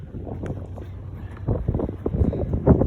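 Strong gusty wind after a tropical storm roars steadily against the microphone outdoors, swelling in louder buffets toward the end, with no clear talking.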